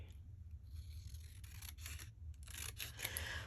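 Scissors cut through card while stacked envelope pockets are made, giving a few close, crisp snipping bursts over a steady low hum, with no talking.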